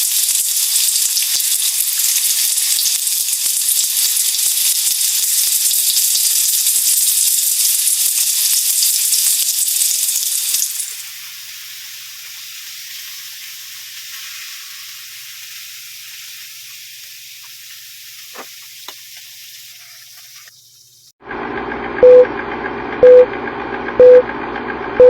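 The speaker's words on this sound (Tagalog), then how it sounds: "Lagay na natin yung tawilis. Kailangan mainit na mainit yung mantika." Tawilis fish fry in very hot cooking oil with a loud, dense sizzle that drops to a quieter crackle after about ten seconds. A different, louder hum with regular beeps takes over near the end.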